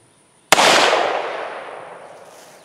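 A single loud gunshot fired outdoors at a slab of melted HDPE plastic, one sharp crack followed by a long, fading echo.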